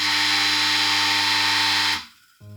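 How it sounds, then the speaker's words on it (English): A broken electric coffee grinder droning with a harsh, steady electronic whine and strong tonal hum for about two seconds, then cutting out abruptly, with a faint restart of the hum at the end. "So this is the horrible noise that it makes."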